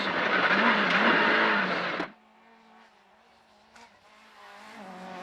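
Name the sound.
Vauxhall Nova rally car driven at maximum attack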